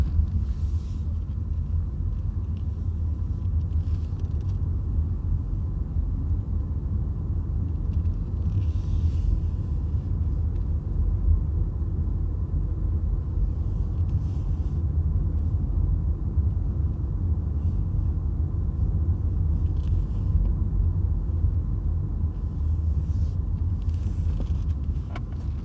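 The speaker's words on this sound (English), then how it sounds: "Now I'm just driving electric, 0 RPM, and it's just quiet here." Cabin noise inside a 2019 Lexus UX250h hybrid driving on electric power with the engine off: a steady low road rumble and tyre hum, with faint wind noise and occasional soft bumps and no speech.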